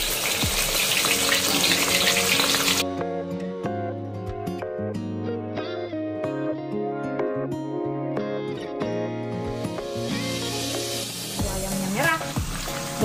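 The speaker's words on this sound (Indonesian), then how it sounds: "ini minyaknya udah panas, kita akan goreng ayamnya" Galangal-spiced chicken frying in hot oil in a wok, a loud hiss and crackle at the start, then faint sizzling under a melodic music bed before the frying swells again near the end.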